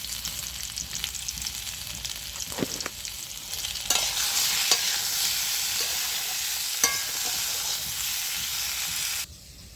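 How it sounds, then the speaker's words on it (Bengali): Potatoes seasoned with salt and turmeric fry in oil in a kadai, giving a steady loud sizzle that swells partway through, with a few stirring clinks and scrapes and no talking. "আলুটা আমার লাল করে ভাজা হয়ে গেছে"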